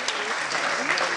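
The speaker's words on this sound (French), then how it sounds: "on peut les applaudir et vous applaudir également bien fort" Audience applause at the closing lectures of the 2022 Amcsti congress, a brief burst of steady dense clapping filling the room at moderate level.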